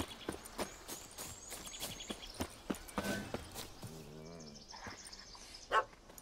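Dog in The Witcher 3 barking several times in short separate bursts at middle distance, mixed with footsteps and game ambience, with a whining, yelping sound near the end.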